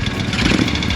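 A motorcycle engine runs with a rough, rattling clatter likened to a bag of nails, a steady close mechanical chatter with no voices.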